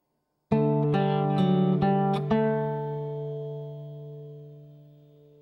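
Guitar picks out measure 28 of Minuet in G, a short run of clear plucked notes in quick succession, then a held note ringing out and slowly fading, alone without talk.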